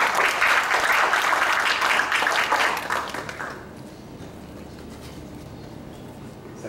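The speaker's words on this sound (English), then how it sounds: "A round of applause to Dr." An audience at a university anniversary forum applauds a vice-chancellor, a full wash of clapping that holds for about three seconds and then cuts off, leaving a quiet hall.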